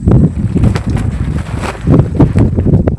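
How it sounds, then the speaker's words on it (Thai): Strong wind gusts buffet the microphone outdoors during a midday rest break, a loud continuous rumbling roar with no one speaking. "ลมมาอยู่เลย"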